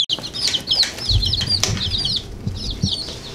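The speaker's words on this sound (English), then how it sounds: "it's a little bantam" Young bantam chicks, Polish chickens among them, give rapid high-pitched peeping chirps close by, layered over soft rustling and low bumping noises in a farm enclosure, with no talking.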